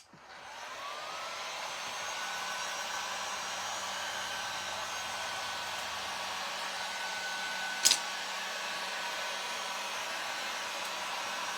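A hair dryer runs steadily at close range, drying freshly painted wood ornament pieces from a nativity kit, a loud continuous whoosh lasting throughout with one brief sharp click partway through.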